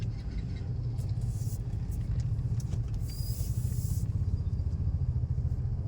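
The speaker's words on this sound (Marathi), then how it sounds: "आम्ही आता ट्रॅफिकमध्ये फसलो आहे." Heavy road traffic on the crowded airport road in Pune, a low steady rumble of car and motorcycle engines, with a brief horn and passing vehicles heard from inside a stuck vehicle.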